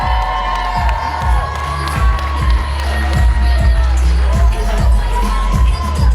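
A convention panel crowd cheers and whoops for Stranger Things cosplayers, loud and continuous with excited shouts, while a strong regular thumping beat pulses underneath throughout.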